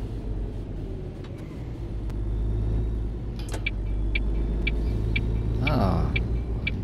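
Steady low truck engine rumble from the On The Road Truck Simulator game on PS4, a drone continuous throughout and rising slightly in the second half, with a few faint clicks and beeps on top.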